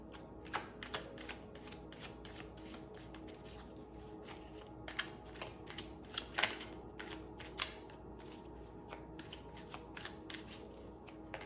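Tarot cards being shuffled by hand, a steady run of soft papery riffles and flicks with sharper snaps scattered throughout, close and quiet, with no talking.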